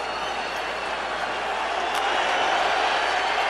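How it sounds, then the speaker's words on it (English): A large stadium crowd at an NFL football game between Washington and Dallas roars steadily and swells slightly louder, a dense continuous wash of cheering with faint commentary underneath. "Crowd rising"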